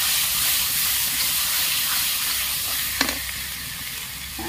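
Masala spices sizzle and fry in a hot pan with garlic paste and cumin while preparing a village-style Odia fish curry, a steady close hiss with a brief stirring clatter near the three-second mark.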